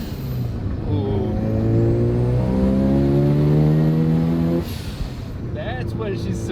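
A restored Mazda FC RX-7 rotary engine climbs steadily in pitch under hard acceleration uphill, loud and close inside the car, then the revs drop abruptly as the throttle lifts, with a voice heard briefly.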